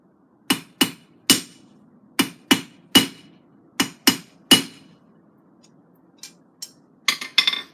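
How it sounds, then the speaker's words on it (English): A hammer strikes a loose rivet in a forge workshop: about ten sharp metallic blows in uneven pairs and runs, close and loud, then a few lighter taps and clinks, over a faint steady hum. "just tightening up a loose rivet"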